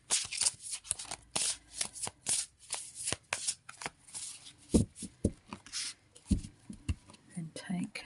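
Tarot cards handled and shuffled up close, crisp repeated riffling and sliding bursts of card stock in an uneven rhythm, with soft whispery speech between the shuffles.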